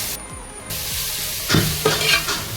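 Chopped onions fry in ghee with coconut in a pan, a loud close sizzle broken by stirring scrapes and a few sharper bursts, with no voices.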